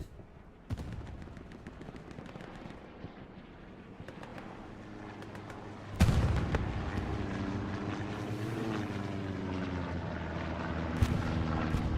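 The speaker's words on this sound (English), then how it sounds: "That was a far rocket." A rocket explodes far off during a World War II battle in the game Hell Let Loose, a sudden dull boom followed by a long rumbling roll over a steady low battlefield drone, with an earlier sharp crack.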